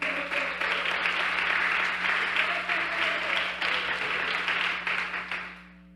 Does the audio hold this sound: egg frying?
no